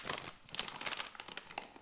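A German 48-hour survival ration packet being cut open with a knife, giving close, rapid crinkling and rustling of plastic packaging in short bursts.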